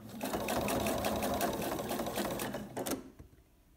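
A sewing machine runs steadily, stitching a seam on a shoulder bag with a zip, its rapid needle rhythm continuous for about three seconds before slowing and stopping.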